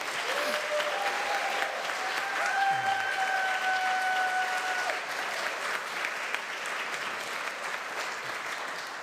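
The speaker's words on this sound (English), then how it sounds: "Can we give him another round of applause, please?" A church congregation claps for Luke at a Rites of Passage Sunday service, with sustained, even applause filling the room for several seconds as a faint tone hums beneath.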